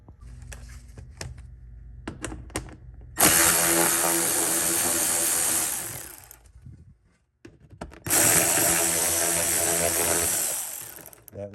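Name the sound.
power tool spinning a stripped screw on Audi Q5 fender liner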